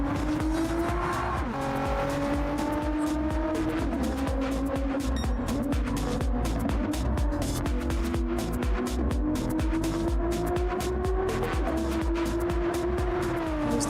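A race car in a racing video game holds a loud, steady engine drone whose pitch climbs and dips with gear changes, with tire squeal and dense rapid clicks over it and no talking.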